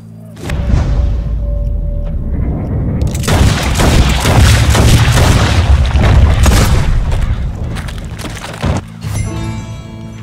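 Gunfire in Red Dead Redemption 2 booms heavily, one blast running into a dense stretch of rumbling thuds and cracks, loud and close, before easing to a quieter tail.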